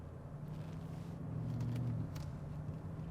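A 2021 Porsche Cayenne GTS engine rumbles low and steady under acceleration, heard faintly from inside the cabin as a continuous deep drone with a slight rise in the middle.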